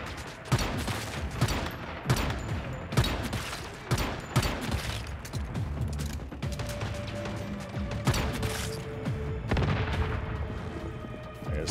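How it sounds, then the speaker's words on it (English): Combat in the video game Once Human, with an enemy grenade going off among a rapid cluster of sharp gunfire bursts and booms, loud and close, repeating across the whole stretch. "First time I've ever seen an enemy throw a grenade at me."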